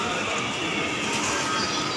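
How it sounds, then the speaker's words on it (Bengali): A commuter train waits at a station before leaving for Sealdah, giving a continuous mechanical hum and rumble with faint rattling. The noise is steady and moderately loud throughout. "এই ট্রেনটায় 6:46 শিয়ালদা যাওয়ার জন্য প্রস্তুত হচ্ছে"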